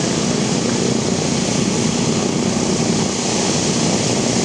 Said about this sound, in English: P-17's taxiing out.